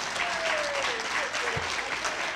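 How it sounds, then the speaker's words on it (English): An audience claps at an award ceremony for a lifetime achievement award, giving steady, sustained applause throughout, with a voice faintly heard over it. "big round of applause to Misty for putting up with this guy"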